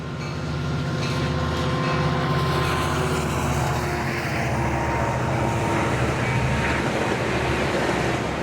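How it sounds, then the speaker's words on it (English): Coaster extra train 643, running with six cars, passes steadily and loudly at close range, a continuous rumble of wheels with faint rhythmic clatter and no voices. "This is extra train number 643 running 10 minutes behind schedule"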